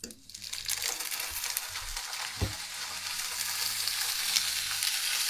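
Salmon pieces frying in a pan, with a bright steady sizzle building close by after a soft thud as they go in, low murmurs underneath.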